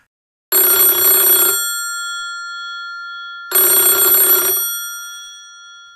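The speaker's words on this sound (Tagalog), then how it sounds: "biglang nagring ang telepono ng nurse station" Two loud electronic telephone rings from a hospital nurse station, each about a second long, separated by a pause of a couple of seconds, with no voices.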